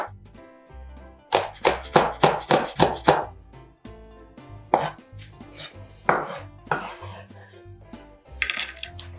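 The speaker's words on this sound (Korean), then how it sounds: "청양고추, 홍고추 쫑쫑 다져주시면 됩니다" Knife rapidly mincing Cheongyang chili and red chili peppers on a cutting board, a near, loud burst of quick rhythmic chops followed by scattered, irregular thuds and taps.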